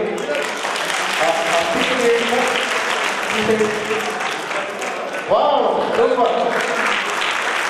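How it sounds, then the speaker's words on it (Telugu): An audience at a rural MLA's birthday celebration event applauds steadily for several seconds while a voice talks over the clapping throughout. "ఒకసారి చప్పట్లు కొట్టి"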